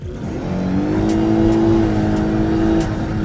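Petrol engine of a Lexus LS 500h hybrid sedan revving steadily for about three seconds, a loud, sustained hum that climbs in pitch and then holds, with no talking over it.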